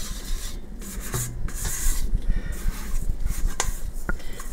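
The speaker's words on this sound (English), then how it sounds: "Don't be afraid to scrape that bowl clean, man." A spatula scrapes keto chocolate and brown sugar muffin batter from a mixing bowl, giving steady close rubbing and rasping strokes with occasional light clinks, alone without speech.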